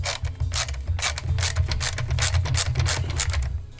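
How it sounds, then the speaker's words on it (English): Screws are driven into a Gobots Monster Zod toy with a rapid, close run of ratcheting clicks that repeats steadily for several seconds over a low rumble. "just putting the screws in"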